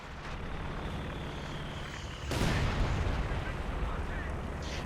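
Rumbling artillery barrages in the World War II strategy game Company of Heroes 2 form a dense, continuous din, growing louder midway with a heavy blast, under faint background noise.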